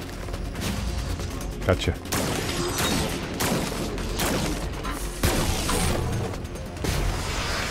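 Rapid bursts of gunfire from the sci-fi shooter Scars Above hit hard and loud in quick volleys during a boss fight against The Construct, with sharp cracks and booms and a player's voice talking over them.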